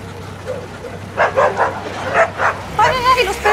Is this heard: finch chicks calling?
no